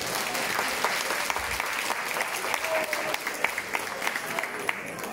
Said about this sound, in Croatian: Nagradimo ih još jednom velikim pljeskom